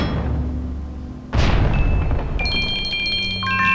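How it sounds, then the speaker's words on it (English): Bombs explode in The Legend of Zelda: The Wind Waker, a single sharp booming blast that cuts through a low background hum, followed by bright chiming tones. "Bombs."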